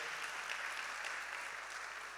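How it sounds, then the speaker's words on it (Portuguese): A church congregation claps in steady, even applause that keeps going the whole time. It sounds moderately distant and fills the room, with no single voice standing out. "um salve de palmas para eles"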